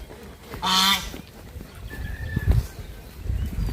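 A single loud honk from a duck rings out briefly, followed by quieter scattered knocks and shuffling noises nearby.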